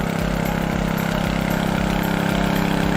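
A tanker truck's engine idles in Bohol, Philippines, with a steady low rumbling throb. The sound is loud and close, runs without a break, and has no speech over it.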